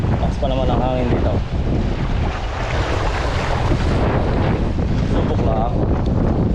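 Strong wind buffets the microphone outdoors near the water by a cave-like rocky shore, a loud steady roar with surf-like rushing and people talking through it.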